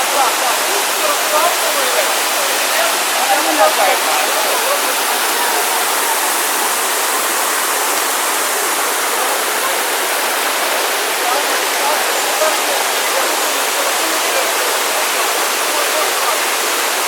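A waterfall of cold, clear mountain water in the Carpathian mountains roars steadily and loudly up close, a constant dense rush with no pauses.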